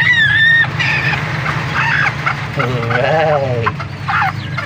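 A hen clucks among her newly hatched chicks, the chicks' high peeping cheeps bursting over her low, repeated clucks close by, while someone speaks briefly.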